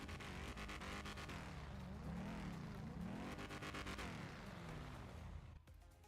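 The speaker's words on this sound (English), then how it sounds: "Stock engine noise." A stock car engine in a Grand Theft Auto roleplay game runs and revs, rising and falling in pitch across two sweeps, fairly loud and continuous before dropping off at the end.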